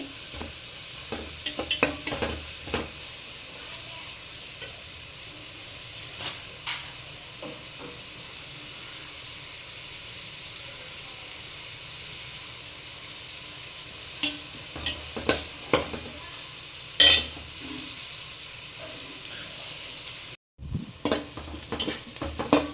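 Chopped onions with a green chilli frying in a pan for egg fried rice, a steady sizzle running throughout with intermittent scraping and clinks of a spatula stirring, close and continuous.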